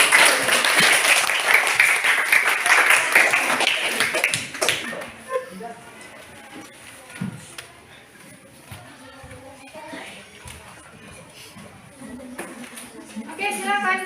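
A classroom of students applauds for the first group for a few seconds, the dense clapping then fading out and giving way to quieter chatter and scattered movement.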